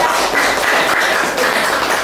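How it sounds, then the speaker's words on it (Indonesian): An audience at a talk-show event claps its hands in a dense, steady patter of applause that stays close and fairly loud throughout, with no voices over it. "saya boleh tepuk tangan"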